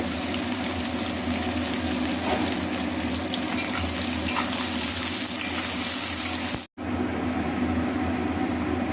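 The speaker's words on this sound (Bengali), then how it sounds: "একটু কাঁচা পেঁয়াজ দেবো, এটাকে এবারে একটু ভেজে নেব।" Raw onion frying in a pan makes a steady, loud sizzle that runs nearly unbroken, with faint stirring scrapes and a single brief break near the end.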